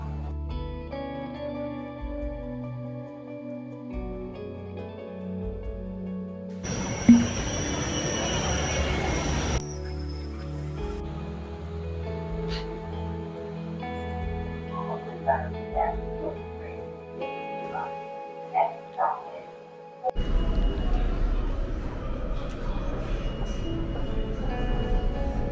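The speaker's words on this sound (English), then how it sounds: "let's hop back on the train" Train riding on the rails on a daytime commute, a steady rumble with tonal hums and brief high squeals, a louder rushing burst early on and a heavier roar toward the end.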